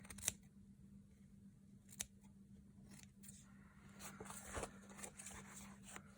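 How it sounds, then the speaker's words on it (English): Scissors trimming lace on an altered Little Golden Book, a few sharp close snips spaced a second or two apart against a quiet room with a low steady hum. "So I think we can trim up that lace from the other side."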